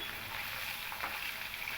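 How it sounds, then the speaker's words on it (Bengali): Fish coated in salt and turmeric fry in hot mustard oil in a kadai, giving a faint, steady sizzling hiss with no talking. "মাছগুলোকে আমি একটু কড়া করেই ভেজে নেব।"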